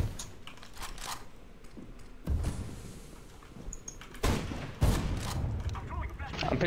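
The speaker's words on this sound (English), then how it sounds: "Why are they shooting you?" Gunfire in the video game CS:GO, several loud shot bursts and impacts spread across the moment, with a player's voice talking over the action.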